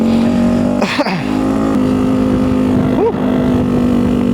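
Motorcycle engine on a steep uphill mountain road, with a steady droning hum running throughout and brief swells as the revs climb, loud and close under wind.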